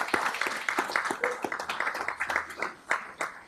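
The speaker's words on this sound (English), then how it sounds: "Come on, give a round of applause." Applause from a small gathering of moms, coaches and women at a city commission meeting: scattered, uneven hand claps at moderate distance, lasting a few seconds before thinning out.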